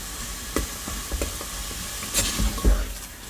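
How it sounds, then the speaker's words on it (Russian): Thick choux dough is stirred and scraped in a saucepan over heat, with soft sizzling and a few dull knocks of the spoon. "Вернем кастрюлю на огонь и продолжим заваривать тесто еще 1-2 минуты."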